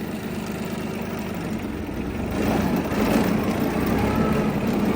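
A Yanmar KE-50 small tractor's diesel engine runs steadily in a higher forward gear, a constant mid-low drone that swells somewhat louder partway through, with no voices over it.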